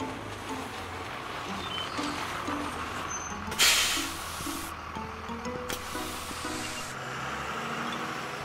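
In a cartoon bus ride, two sharp hissing bursts of air brakes stand out over a steady rumbling background scattered with faint tonal blips, with no voices.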